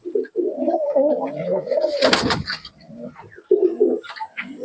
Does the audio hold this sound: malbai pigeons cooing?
yes